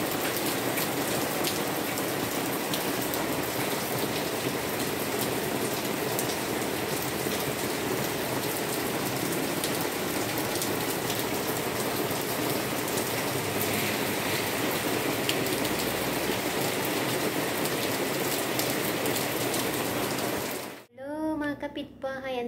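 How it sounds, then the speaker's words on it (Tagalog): Steady rain pours onto a tarp-covered roof at night, a dense continuous patter heard from indoors that holds unbroken for about twenty seconds before a brief handling noise at the end. "Umuulan, guys."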